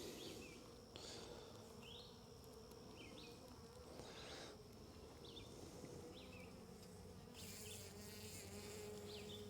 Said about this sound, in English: the bees are a little angry because it's late in the evening